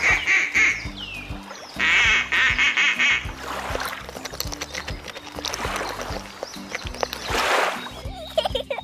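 Ducks quack in short repeated bursts, with gentle splashing and background noise around them, moderately close.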